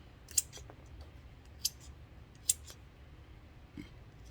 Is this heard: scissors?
yes